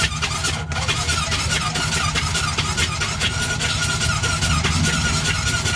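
A Honda Pioneer 700 UTV engine cranking over after being drowned in water, a continuous steady whirring of the starter with a high squealing tone throughout, loud and close.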